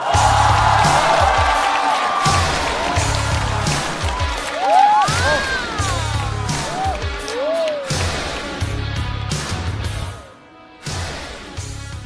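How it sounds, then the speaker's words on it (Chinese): A studio audience at a stand-up comedy roast show applauds and cheers to welcome a performer, loud sustained clapping with whoops, shifting music swells and a brief drop near the end. "让我们掌声欢迎伊丽静老师"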